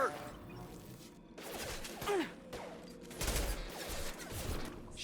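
Bursts of gunfire from a sci-fi squad firefight in Mass Effect 2, with sharp shots and whooshing impacts rising and falling over five seconds, loudest in a dense volley near the middle.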